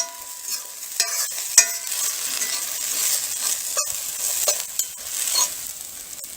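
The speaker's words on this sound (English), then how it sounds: "You can see the flame up underneath the pan there. And the potatoes are cooking nicely." Potatoes fry in a pan over the flame of a SilverFire Survivor stove, a steady close sizzle broken by occasional sharp clinks and scrapes of stirring, with no voices.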